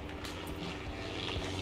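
A helicopter in the Vietnam War game S.O.G. Prairie Fire gives a steady rotor and engine drone, continuous and moderately loud over a short stretch, with no talk.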